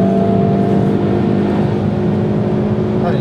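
A car on the Haute Saintonge race circuit, engine droning loud and steady from inside as it gradually builds speed, a sustained hum with no voices.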